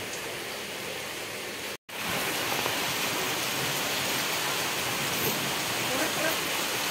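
Rain falls steadily at a fishing spot, a dense, even hiss that cuts out for a split second early on and then continues unbroken.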